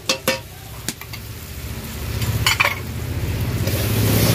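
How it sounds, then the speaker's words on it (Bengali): Tomato, ginger and garlic fry in a pan while a utensil stirs them: a few sharp knocks against the pan at first, then a steady sizzle that grows louder and closer, with no talk. "আমি আরেকটুখানি ভালো করে নাড়িয়ে ছাড়িয়ে নেবো যাতে আদা রসুনের কাঁচা গন্ধটা চলে যায়"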